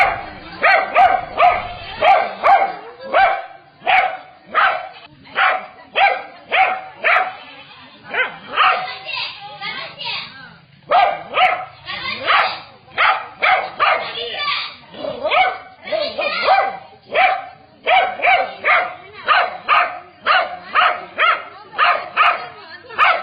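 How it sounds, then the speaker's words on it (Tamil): A dog barks repeatedly and insistently at a cobra trying to get into a house, sharp yelping bursts in rapid series with brief pauses, alongside a narrating voice. "இன்று காலை அவரது வீட்டிற்குள் நுழைய முயன்ற நல்ல பாம்பை ஜூலி நாய் தொடர்ந்து குறைத்து உள்ளே வரவிடாமல் தடுத்தது"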